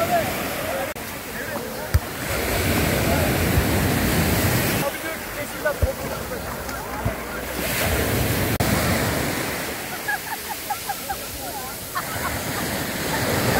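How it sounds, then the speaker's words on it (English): Ocean surf breaks in steady, overlapping surges on a shallow Turkish beach between Kaş and Kalkan, with strong waves rolling in. The roar is loud and continuous, with wind buffeting the microphone and no clear talk. "waves can be quite strong"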